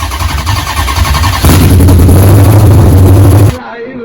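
Cammed 5.7 Hemi V8 at its first startup runs loud and close, jumping into a heavier, deeper, choppy lope midway before suddenly cutting off into quieter background.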